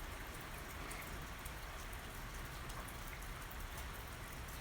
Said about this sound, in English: So can you hear the rain?